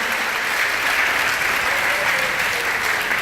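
A church congregation claps together in sustained, dense applause, loud and continuous throughout with no break.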